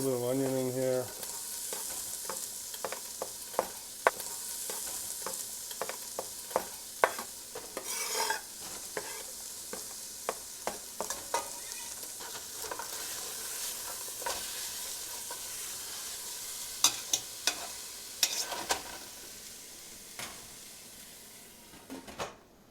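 Onion frying in a pan, sizzling steadily while a utensil stirs and scrapes it in repeated clattering strokes, close and clear with no talking.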